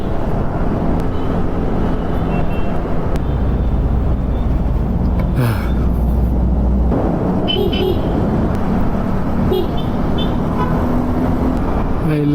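A motorcycle horn toots a few times amid loud, continuous city traffic in Pasay, Manila, with engine rumble and other vehicles passing nearby.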